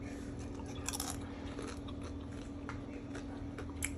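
Quiet, close-up chewing of a spicy Chipotle meal with cilantro and guacamole gives soft crunches and squishy bites over a steady low hum.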